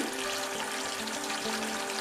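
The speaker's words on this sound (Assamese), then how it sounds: "মছলাখিনিৰ পৰা আদাৰ কেঁচা কেঁচা গোন্ধটো নোযোৱালৈকে আমি ভাজিম।" Masala with ginger frying in a pan for an Assamese paneer curry, a steady close sizzle with faint stirring, no talk.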